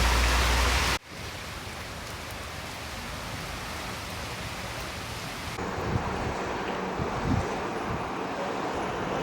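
Steady rain at Lake Como, a continuous broadband hiss close to the microphone with a few louder drops near the end, after a brief louder opening noise.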